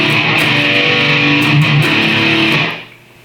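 Close and loud, a root-five power chord rings on a heavily distorted electric guitar in a death metal tone. It is strummed repeatedly in a steady rhythm, then cuts off and decays into near silence near the end, with no talking.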